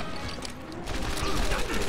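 Rapid gunfire rattles in a World War II shooter, Medal of Honor Airborne, dense close bursts of shots blending into a loud continuous crackle over a short stretch.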